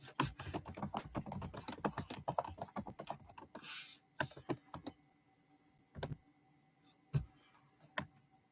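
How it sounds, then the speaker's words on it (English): Rapid typing on a computer keyboard, dense bursts of close, crisp key clicks that thin out into a few isolated taps near the end, no voices. "I'm just typing everything"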